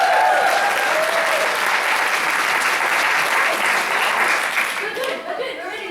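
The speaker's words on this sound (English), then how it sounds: "some round of applause from the crowd" A crowd gathered for a university Three Minute Thesis event gives a sustained round of applause, loud and dense throughout before thinning slightly at the end.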